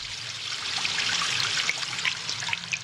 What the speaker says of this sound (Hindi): ये देखो पानी कितनी तेजी से बह रहा है